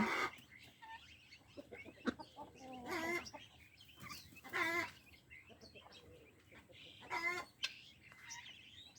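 Hens foraging for insects on water, clucking and calling in a few short separate bursts against a quiet farmyard background; chicks and ducklings may be nearby.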